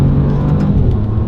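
Alfa Romeo Giulia Quadrifoglio engine under way on the road, a steady, loud, close rumble with a rich low drone and slight revving swells throughout.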